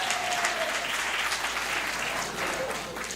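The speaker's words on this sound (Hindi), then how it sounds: "आप जोरदार तालियों से" An audience claps at a Hindi poetry gathering (kavi sammelan), dense sustained applause from a large crowd, loud and continuous, with a faint voice briefly audible underneath.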